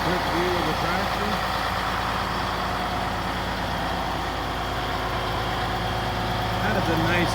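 A Case 2870 tractor engine runs smoothly at a steady idle, a continuous low droning rumble with an even tone throughout, fairly loud and close with no break.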